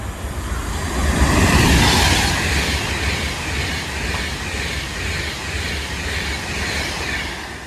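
An Avanti West Coast Class 390 Pendolino, unit 390008, passes through Watford Junction on a Birmingham New Street to London Euston run, its rushing roar swelling early then settling into a steady rumble with faint rhythmic wheel clatter.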